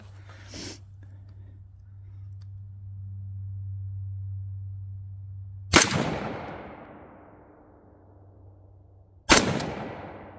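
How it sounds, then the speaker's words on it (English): Two sharp rifle shots, well spaced, crack out loudly and ring into a long decaying echo, fired through a MidTen 4-12x40 AO scope at paper target stickers on an outdoor range, with a steady low hum underneath. "Hit it with the second shot and it flew off."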